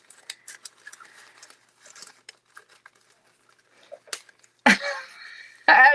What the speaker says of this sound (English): I'm trying to cut with scissors today.